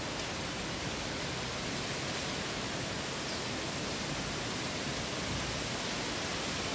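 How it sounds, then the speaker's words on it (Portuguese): Water from a dammed cascade rushes and pours down at an old water wheel site by a historic ironworks, a loud, steady, broadband roar filling the whole stretch without a break. "o barulho da água é bem forte aqui"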